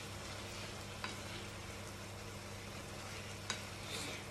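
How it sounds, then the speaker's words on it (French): Minced beef stuffing for lasagna fries in a pan, giving a steady, close sizzle and crackle throughout, with two sharp clicks of a utensil against the pan and no talking. "Ma farce cuit."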